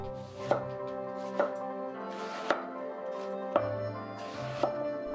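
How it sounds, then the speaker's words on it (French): A knife finely chopping cabbage on a board: five sharp, evenly spaced cuts about a second apart, close and clear with no talk. "commencez par retirer le trognon du chou, détailler finement"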